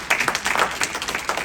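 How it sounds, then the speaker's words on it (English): A political caucus meeting audience applauds, a short burst of uneven clapping from a modest crowd with distinct individual claps audible. "Give yourself a round of applause."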